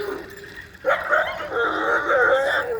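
A young Rottweiler Cane Corso mix dog close by lets out a short whine, then a few higher yips and whimpering whines over about two seconds.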